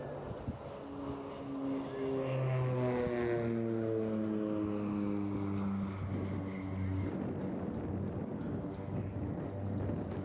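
Display aircraft making a high-speed pass at the Eastbourne airshow, engine tone rising as it closes and dropping in pitch as it sweeps past, then receding.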